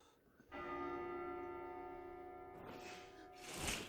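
A single bell strike rings out with a long, humming sustain, heard faintly and from a distance before other noise intrudes near the end.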